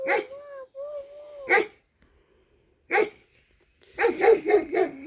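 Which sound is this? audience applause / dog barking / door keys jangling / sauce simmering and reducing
dog barking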